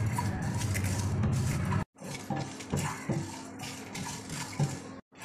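Whole cumin, coriander, fennel seeds and three dried chillies dry roasting in a pan, with rattling, scraping stirs and light clinks in uneven bursts, close and moderately loud, with two brief silent gaps.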